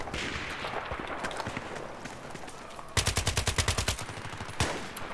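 Scar-L assault rifle fire in Battlefield 3, a rapid burst of about a dozen sharp, evenly spaced shots, close and loud, with scattered distant gunfire and battle noise before it.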